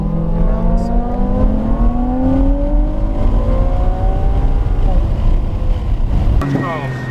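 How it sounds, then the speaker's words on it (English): A race car accelerates hard on a track, engine pitch climbing steadily in a loud, continuous roar, with a coach's voice talking over it. "And now accelerate."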